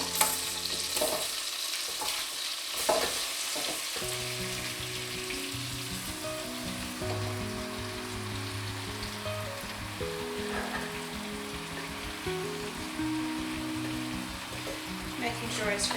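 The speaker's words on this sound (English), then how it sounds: "So I'm going to add my apples into the pan now." Apples with sugar sizzle in a pan in a continuous close frying hiss, with low tonal background sounds running underneath throughout.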